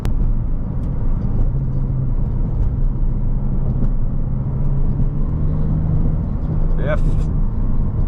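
A Porsche 911 992 Turbo S accelerates hard, its engine a deep, steady rumble heard from inside the cabin throughout, with a driver talking over it.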